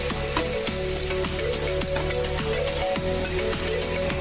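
Chicken pieces deep-frying in hot oil in a pan, a loud, steady, dense sizzle with constant crackling and popping throughout, with no talking.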